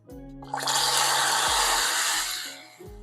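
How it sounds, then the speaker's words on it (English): Water hits hot caramel sauce made from sugar with a sudden loud, hissing sizzle that swells and holds for about two seconds before fading, backed by a low background hum. "There goes our first splash."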